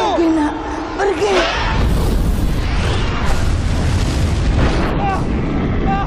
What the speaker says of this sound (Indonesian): Entah bagaimana Panji bisa selamat dari ledakan tersebut.